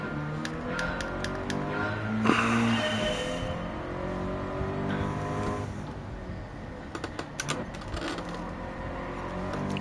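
Toyota road car engine in Gran Turismo 7, practice session for a Toyota Gazoo GT Cup round at Suzuka, a steady tonal hum with shifting pitch, punctuated by sharp clicks and brief bursts, fairly close and loud.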